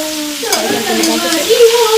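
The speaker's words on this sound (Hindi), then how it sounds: "कटहल के मसाला भुंजाते हुए" Jackfruit masala being fried and stirred in a pan, a loud close sizzle with scraping strokes and some tonal clatter from the utensil, no voices.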